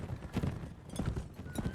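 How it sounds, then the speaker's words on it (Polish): Horses in the video game Mount & Blade: With Fire and Sword, a rapid run of hoof clip-clops in uneven bursts, fairly close, with a faint whinny among the hoofbeats. "Tam jakiś koń, tam jakiś koń."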